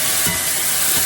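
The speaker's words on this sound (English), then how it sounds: "Stir them around a little bit." Honey-glazed Brussels sprouts are stirred in a hot skillet, giving a loud, dense sizzle with scraping stir noise, close and continuous over a brief moment with no voices.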